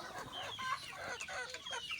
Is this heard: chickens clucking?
yes